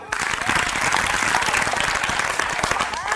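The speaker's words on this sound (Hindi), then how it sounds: "सभी बच्चे पहले अपने लिए ताली बजाओ" Schoolchildren clap loudly and steadily at a health awareness program at Kanya Purva Madhyamik Vidyalaya in Chandauli, with a dense crowd of applause and some voices mixed in.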